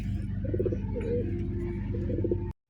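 Several pigeons coo in a steady, overlapping murmur, near and moderately loud, with repeated soft rolling calls for about two and a half seconds before the sound cuts off abruptly.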